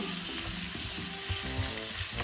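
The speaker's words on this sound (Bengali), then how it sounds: "টমেটোটা এখানে ফ্রাই হচ্ছে" Tomato and onion fry in a pan for a shrimp stir fry, producing a close, continuous crackling sizzle with small bubbling pops and no voices.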